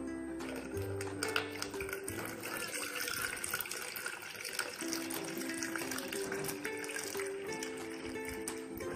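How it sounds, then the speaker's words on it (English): Water pours into a container for a homemade water-alarm science experiment, a continuous trickling splash running throughout at moderate level, while a steady tonal hum sounds underneath. "I'll pour some water into it."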